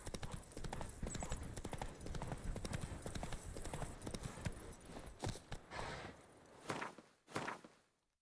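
Roach the horse clip-clops along in The Witcher 3, a steady run of hoof steps that slows to a few scattered hits before fading out, with a voice briefly over it.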